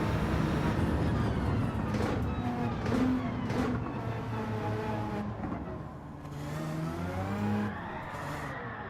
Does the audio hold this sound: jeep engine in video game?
yes